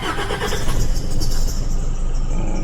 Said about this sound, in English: so we'll start the car now